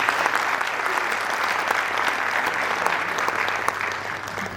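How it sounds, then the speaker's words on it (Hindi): Audience at a cultural event and painting exhibition welcoming a minister with loud, sustained applause, a dense, even patter of many hands that tapers slightly at the close. "जोरदार तालियों से मंत्री जी का स्वागत"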